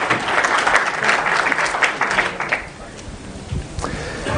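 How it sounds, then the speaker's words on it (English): An audience at an opening-remarks session claps for itself, loud dense applause that holds strong for a couple of seconds, then thins and tapers toward the end. "I'm going to be cheesy and have you guys clap for yourself for a minute"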